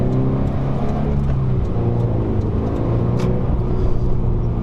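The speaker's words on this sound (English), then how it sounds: "I made the clutch slip a little bit too much." A car accelerates in traffic with a slipping clutch, a loud steady engine rumble and drone with a slowly shifting pitch throughout, no talk.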